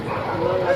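A stray dog yipping and whimpering in short, close, high-pitched cries, mixed with people speaking nearby.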